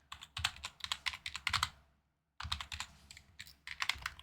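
Close, brisk typing on a computer keyboard in quick bursts of clicky keystrokes, with a short pause midway before the typing resumes alone.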